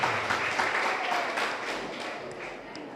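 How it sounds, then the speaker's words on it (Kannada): Students and guests stand and clap loudly at a high school zonal-level event in Mudipu, a dense, continuous round of applause that gradually eases in volume. "ಜೋರಾಗಿ ಚಪ್ಪಾಳೆ ತಟ್ಟಿ"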